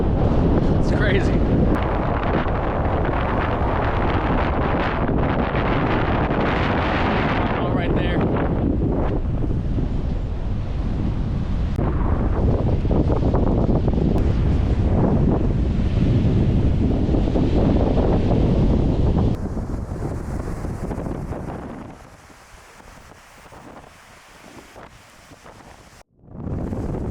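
Strong wind on a beach on California's Central Coast buffets the microphone with loud, roaring rumble, easing after about twenty seconds into quieter gusts with surf faintly beneath.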